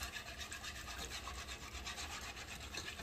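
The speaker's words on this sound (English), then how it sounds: "Keep whisking, and I like to turn the pot too." A whisk scrapes steadily and rhythmically against a pot as roux is worked into stock for pot pie, a continuous close rasping with no pauses.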